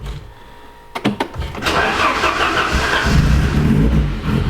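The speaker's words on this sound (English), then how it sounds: "I'll just start the car up" A Ford Sierra Cosworth that hasn't run for a while cranks with a few quick stuttering turns, then fires and settles into a loud, rough, steady idle close by, with no one talking.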